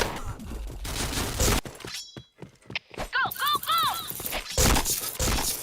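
Bursts of gunfire crackle through a shooter video game, dense rapid volleys at the start and end with sharp single shots between, under excited voices and chirping game effects.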